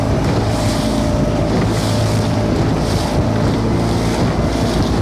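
Engine of a Cardigan Bay Coble boat at sea, a steady low drone under heavy wind buffeting and rushing water, with no break from start to finish.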